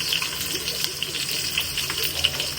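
Chopped large onions and green chilies sauté in oil for mushroom biryani, a soft steady sizzle with faint stirring clinks under a constant close wash of frying noise.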